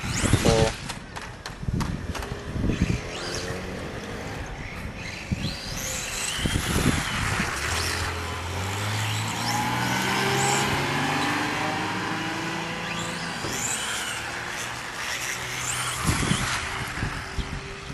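A motorcycle engine revs hard under partial to near-full throttle, with rising and falling tonal sweeps of acceleration, loud and close, running steadily throughout with no talking.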